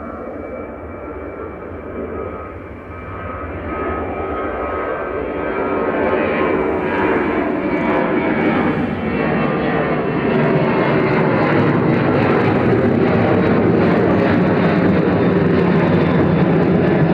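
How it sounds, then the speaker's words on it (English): A Ryanair Boeing 737-800 jet operated by Malta Air departs Manchester Airport, its engine roar loud and steady, building over the first seconds into a sustained broadband rumble with no voices. "That was Ryanair 1900 over to Dublin, 9HQDL, a 737-800 operating that by Malta Air."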